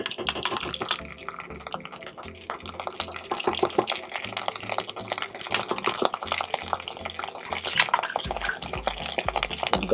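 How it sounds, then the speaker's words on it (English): Green curry paste being stirred into chicken curry in a pan, with wet, irregular scraping and sloshing at close range and a low sizzle beneath. "Go ahead and stir that in."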